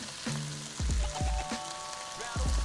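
Broccoli, browning butter, garlic and mushrooms fry in a pan with salt, a steady sizzle broken by a few louder clatters and stirring bumps, close up.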